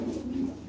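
A European Lahori pigeon gives one short, low cooing call, close by and moderately quiet.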